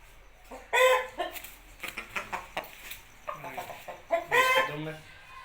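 Aseel rooster at a breeder's farm giving a run of short, loud clucks and squawking calls in bursts, close to the microphone, with a voice talking at times in between.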